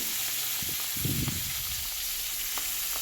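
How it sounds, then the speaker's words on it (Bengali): Pabda fish dropped into a hot wok sets off a brief loud burst of sizzling and frying, which then settles into a steady hiss of oil. "মাছটা এখানে তুলে দিচ্ছি কড়ার মধ্যে"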